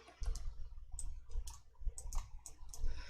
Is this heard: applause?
no